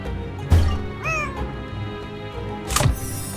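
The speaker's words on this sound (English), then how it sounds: "There's that cat again." A cat in the Nancy Drew Dossier: Lights Camera Curses game lets out a couple of loud, clear meows with rising and falling pitch, spaced about two seconds apart over quiet ambient game music.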